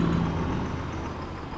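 Truck engine running steadily in Farming Simulator 22, a continuous loud low rumble with a faint tonal hum early on, heard alone without talk.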